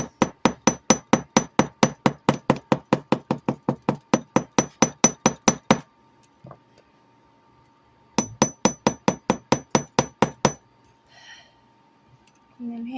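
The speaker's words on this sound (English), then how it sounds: "And then hammer both sides" Jewelry wire for a wire-wrapped necklace is hammered flat in a fast, even series of sharp metallic taps. A pause with a faint tone follows, then another quick burst of strikes.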